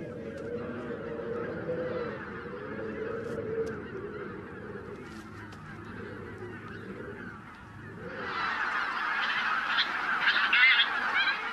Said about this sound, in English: The wild geese have drawn out their stopover as long as possible.